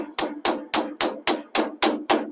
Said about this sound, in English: Now you're going to pound that back down.